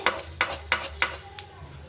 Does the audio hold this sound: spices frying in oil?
yes